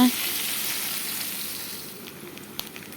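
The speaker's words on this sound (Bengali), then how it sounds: "বেগুনগুলোকে লাল করে ভেজে নিই" Eggplant pieces fry in oil for a vegetarian potato-eggplant dish, making a close, even sizzling hiss that eases slightly toward the end, with a few small clicks.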